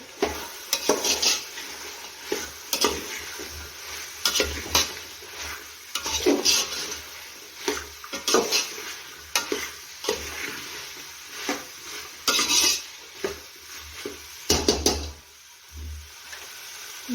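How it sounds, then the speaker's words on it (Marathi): Peas, cauliflower and carrot are stirred in a pan for a mixed veg paneer pulao, giving repeated scraping and clinking strokes of a spoon against the pan in an irregular rhythm, close and moderately loud, with no talking. "टाकून घेऊया फ्लावर त्यासोबत गाजर सर्व फिरवून घेऊ"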